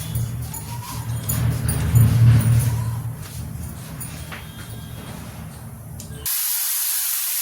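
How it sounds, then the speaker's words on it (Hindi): Grated bottle gourd frying in a pan with cumin, giving a loud, steady hiss and sizzle close by that fades slightly before cutting to a flat noise. "ये लौकी मैंने इसमें डाल दिया है, और इसको हम हल्का सा फ्राई करेंगे"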